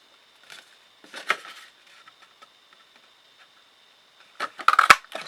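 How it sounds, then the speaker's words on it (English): A 1 3/8 inch circle punch cutting rounds out of a scrap of card stock, giving a few short, close clicks and crunches with a sharper burst of snaps near the end and quiet gaps between. "Just punch out a couple of circles."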